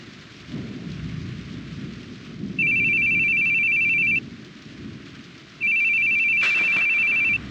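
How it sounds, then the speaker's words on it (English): A phone rings in The Boogie Man video game, giving two long electronic ringing bursts over a constant backdrop of rain and distant thunder. "Your phone's ringing."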